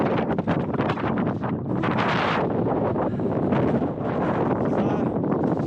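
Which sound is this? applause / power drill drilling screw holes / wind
wind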